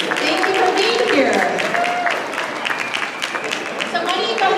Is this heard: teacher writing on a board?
no